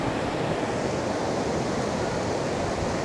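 Sea waves wash onto an open beach at sunset while a strong wind blows, making a steady, dense roar of surf and gusts with no breaks and no voices.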